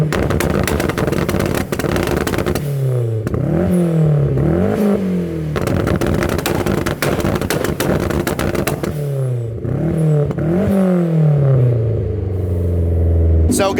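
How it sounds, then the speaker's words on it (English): A Mazda Miata running on E85 fuel revs hard in repeated rising and falling bursts to shoot exhaust flames, loud and close throughout, with a few voices heard between the revs. "we need to test the E85 flames here"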